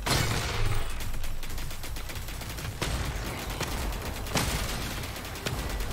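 Continuous loud gunfire in the post-apocalyptic mech arcade game Uragun, sharp bursts and volleys over several seconds, dense and unrelenting, with no talking.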